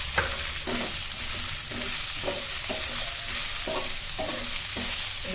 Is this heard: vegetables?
yes